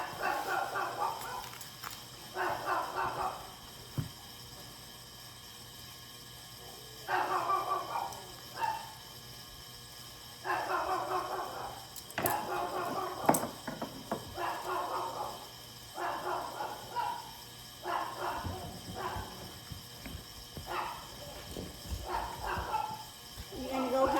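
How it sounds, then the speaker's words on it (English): Two household dogs bark in repeated bursts across the stretch, moderately close and fairly loud, with short gaps between volleys and faint room noise underneath. "Miss Lily's on the bark"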